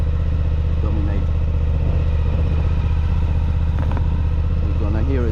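A Suzuki V-Strom 1050DE fitted with a Dominator aftermarket exhaust and no dB killer idles nearby, a loud, steady, deep throb with a few faint blips over the drone.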